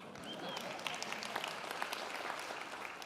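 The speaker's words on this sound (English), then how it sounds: "Give them a round of applause." A lecture audience gives a round of applause, a dense, even wash of many hands clapping that holds steady at moderate distance for a few seconds.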